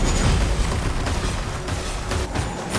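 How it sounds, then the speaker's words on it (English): Fireworks go off in the Genshin Impact video game as a dense, continuous rumble of loud booms and bursts, with no clear gaps between blasts. "Here come the fireworks!"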